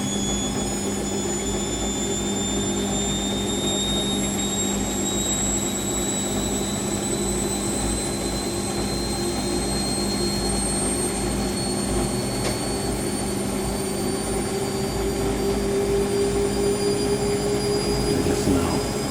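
A Siemens WH54080 Extraklasse washing machine on a 90ºC cottons program spins up, a steady loud whirring hum with rising whine tones climbing slowly in pitch as the drum speeds up, heard close with no talk.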